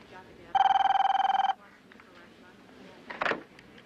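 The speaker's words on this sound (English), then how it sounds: "getting to know the sound of your ring" A telephone bell rings in one loud, rapid trill lasting about a second, followed by a brief rustle or clatter as it is picked up, with faint room noise in between.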